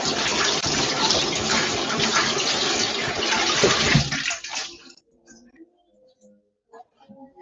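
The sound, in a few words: water running from tap while washing hands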